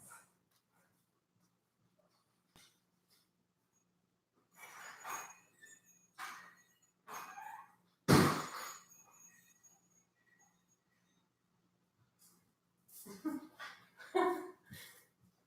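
Dogs scratch and whimper at a door, with a few yips and one louder bark, in scattered bursts under faint cricket chirps and quiet speech.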